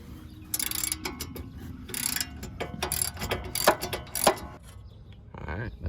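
A wrench works a 19mm bolt on the steering rack of a 350Z: repeated close ratcheting clicks and metallic knocks in uneven bursts, with louder clanks near the end.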